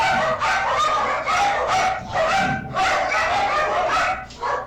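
A dog barks repeatedly while playing, a loud, close run of sharp barks coming in bursts with short gaps between them and no talk over it.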